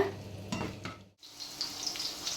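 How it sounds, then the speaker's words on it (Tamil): Garlic and green chillies sauté in oil with a moderate sizzle and a few stirring scrapes, broken by a brief gap before the frying hiss resumes. "இப்போது இந்த பூண்டும் இந்த பச்சை மிளகாவையும் நல்லா வதக்கிக்கோங்க."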